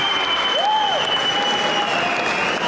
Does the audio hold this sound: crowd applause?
yes